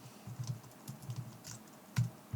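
Computer keyboard keys clack in a quick uneven run of taps, close and fairly crisp, as comma-separated numbers are entered, with no talking.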